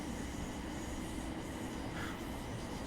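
Thameslink Class 700 train in a train simulator game, running with steady rail noise and a faint high rail-singing whine over constant rumble, with no talk.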